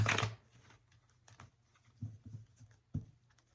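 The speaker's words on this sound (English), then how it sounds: "We're going to shuffle the energies and the cards right now" Close, soft tarot card shuffling comes in short papery bursts and taps, with quiet pauses between the riffles.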